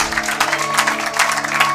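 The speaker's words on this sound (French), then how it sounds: "Acclamez pour la gloire de notre Dieu" Church congregation applauding during worship, a steady wash of many hands clapping at moderate loudness with sustained organ or keyboard tones underneath.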